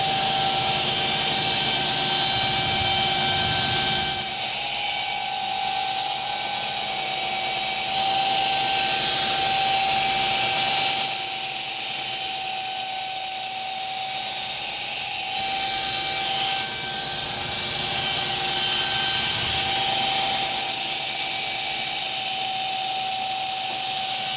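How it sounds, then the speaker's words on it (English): Coarse belt on a belt grinder roughing in the bevel of a handmade knife blade, a steady loud grinding hiss with a sustained whine, continuous for the whole stretch with slight shifts in pressure. "So now I'm going to put on a coarse belt, rough end the bevel as a guide."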